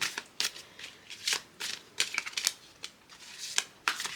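Tarot cards being shuffled by hand in a quiet room, a string of crisp riffling and snapping bursts repeating at an uneven rhythm, close and fairly loud, with no talking.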